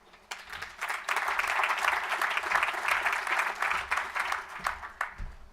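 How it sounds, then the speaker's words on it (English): A summit audience breaks into applause that builds quickly into a dense, even wash of clapping, holds steady for several seconds, then thins out near the end. "Let's give one more round of applause to the 8 commitment makers today and the 10 that we made earlier"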